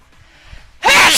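A single loud, close sneeze bursts out sharply after a stretch of faint background murmur, ending the short moment abruptly.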